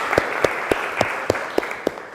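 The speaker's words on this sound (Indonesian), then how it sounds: "Tepuk tangan dulu buat semua." A small group of students in a high school classroom clap together in a slow, even unison rhythm, about seven distinct claps, close and fairly loud.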